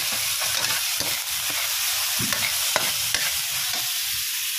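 Shrimp sizzle in a hot pan while a utensil stirs and scrapes through them, giving a continuous frying hiss broken by several sharp clacks of the stirring, with no voices.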